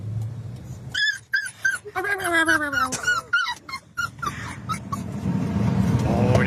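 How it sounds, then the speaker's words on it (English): A puppy whines and whimpers in high, wavering bursts, some drawn out, over a steady low hum of a car interior. "It's a puppy in front of the air vent in a car."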